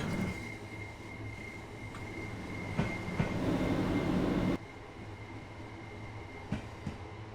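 Simulated train, a Class 377 electric unit on a run to Eastbourne, passing through a train wash in a driving game: steady rolling rumble with faint clicks and a brief louder washing swell before it drops back, no voices.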